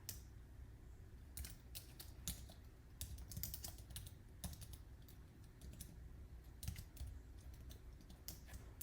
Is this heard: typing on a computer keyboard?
yes